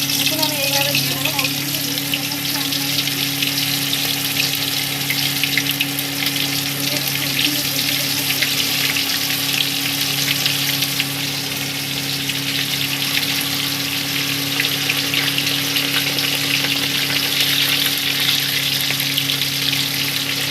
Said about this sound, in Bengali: চিকেন পটেটো ফ্রাইগুলো দেখাচ্ছি কীভাবে ভাজবো। দেখুন আমি একে একে দিচ্ছি কড়ার মধ্যে